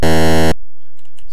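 A harsh, buzzy synthesized laser-shot effect from an Atari 2600 audio editor blasts loudly for about half a second and then cuts off, leaving faint low hum and a few soft clicks.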